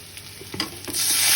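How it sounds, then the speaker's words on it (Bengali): A burst of sizzling as hot water hits a pan of frying spices, turning into a steady loud hiss and bubbling that fills the rest of the clip. "তো আমি আন্দাজ মতো জল দিয়ে দিলাম।"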